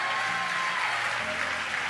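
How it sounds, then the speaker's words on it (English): Crowd at SpaceX cheering and applauding as the Bangabandhu Satellite 1 floats away after deployment, a dense, steady wash of clapping throughout. "As you can tell, the crowd here at SpaceX is extremely excited."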